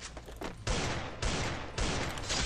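Three loud bursts of rapid video game gunfire, harsh and dense, each cutting in abruptly and continuing briefly.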